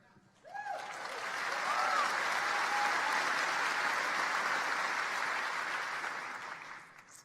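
A large audience at a political foreign-policy speech at Indiana University breaks into sustained, dense applause that swells quickly, holds steady for several seconds, then tapers off near the end.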